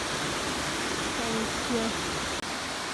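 A Black Forest waterfall roars steadily in a broad, dense wash of falling water, close and loud, with a voice speaking briefly over it.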